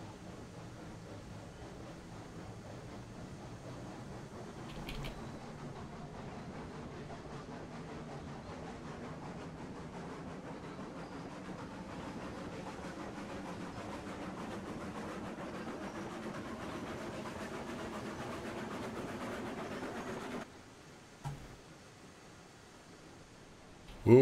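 A train rolls along rails in the video game Railroads Online, a steady low rumble with faint rhythmic clatter that holds for about twenty seconds before cutting off abruptly, followed by a couple of short knocks.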